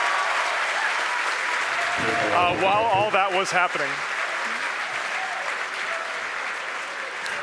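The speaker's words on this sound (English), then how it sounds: "The crowd's going nuts here at SpaceX headquarters in Hawthorne." A crowd at SpaceX headquarters in Hawthorne applauds and cheers loudly and continuously during a Bangabandhu Satellite 1 launch, while a presenter speaks briefly over the sustained roar.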